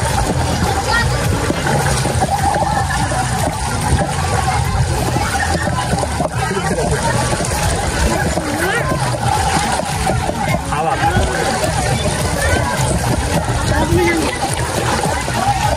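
Strong river current rushing and splashing at Paho Nature Park in Tayabas, a loud, continuous close-up wash of churning water with people's voices mixed in.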